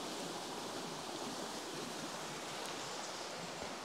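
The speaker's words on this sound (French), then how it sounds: "C'était plus un ruisseau qu'on avait, c'est une rivière." A flooded stream, swollen into a river after 14 cm of rain from Storm Debby, flows with a steady, dense rushing roar, continuous and moderately distant, with no voices.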